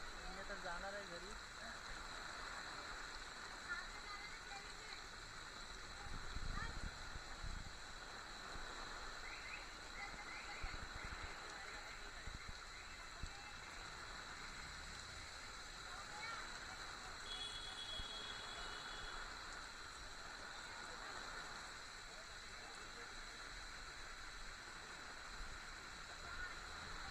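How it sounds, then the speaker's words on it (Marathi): Heavy monsoon rain pours down steadily outdoors, a dense, even hiss filling the whole stretch with bursts of louder splashing and occasional faint background voices. "पाऊस जास्त आहे"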